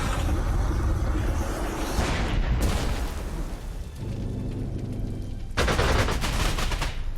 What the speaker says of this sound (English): those anti-aircraft guns are tearing me up